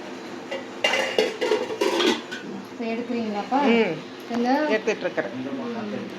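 A lid is placed on a cooking pot, giving a few short metallic clatters near the start, with a person talking over and after them.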